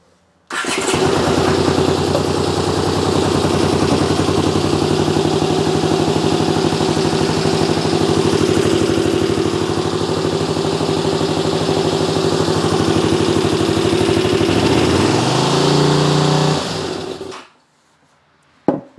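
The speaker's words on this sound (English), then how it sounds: "Sound like a second cylinder kicked in there for a second." A Honda CX500 motorcycle engine with rebuilt carburetors idles loudly and steadily for a long stretch, with a brief uneven stumble near the end as the second cylinder kicks in, before it cuts off abruptly.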